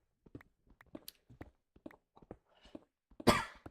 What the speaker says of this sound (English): Why am I coughing so much today?